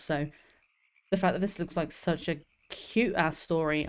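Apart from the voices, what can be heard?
frogs croaking in a Steam video game demo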